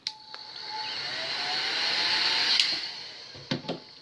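Heat gun blowing hot air to soften vinyl wrap film: a steady, close, high-pitched fan whir that holds for several seconds, framed by a few light clicks and handling taps at the start and end.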